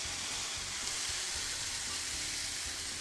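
Pork and tomatoes cook over heat with caramelized onions in a pan, giving a steady, even sizzle with no voices over it.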